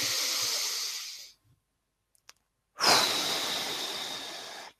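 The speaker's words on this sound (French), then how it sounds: "Rien que respirer." Slow, deliberate breathing close to the microphone: one long airy exhale, a silent pause, then another long steady breath, loud and alone.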